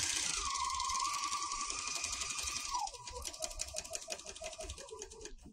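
A four-thread serger stitches fabric, its rapid mechanical whirr running steadily and close, then slowing and changing pitch partway through before winding down.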